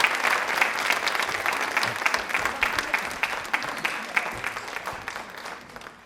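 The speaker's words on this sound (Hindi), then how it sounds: "तालियां प्लीज एक बार जोरदार हो जाए रेणु मैम के लिए।" A studio audience at a Rajasthani television quiz show claps steadily for Renu Tanwar, the applause dense and sustained for about six seconds before slowly thinning out, with no voices over it.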